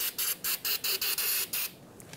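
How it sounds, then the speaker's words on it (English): Copper spray hisses from an aerosol can onto the face of a brake rotor on a 2007-2017 Ford Expedition, coming in about seven short, close bursts followed by a longer spray, with no talking. "I'm gonna spray the face of the rotor with a little bit of copper spray."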